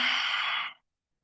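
A slow, steady exhale during a guided breathing exercise, a close breathy rush of air lasting under a second before fading out to silence.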